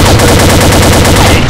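Rapid automatic gunfire rattles on without pause in a shooter video game, dense, loud and close, with a steady repeating pulse throughout and no talk.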